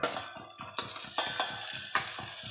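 Moong beans tipped into a pan of sizzling spiced vegetable curry and stirred, with a steady rhythmic scraping of the spoon over a continuous close frying hiss.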